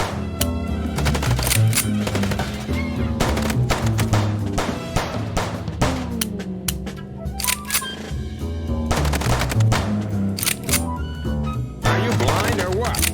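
Rapid bursts of gunfire in the video game Chicken Police ring out repeatedly across the scene, loud and dense, layered under game music and voices talking.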